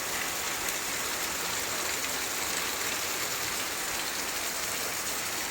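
Heavy rain pours down over Kollapur town at night, a steady, dense hiss of drops on roads and surfaces that never lets up, with no voices.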